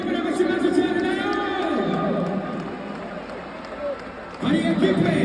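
A stadium crowd cheers and applauds a winning cement-factory team presented with a trophy, a dense steady roar under a loud announcer's voice that rises again near the end.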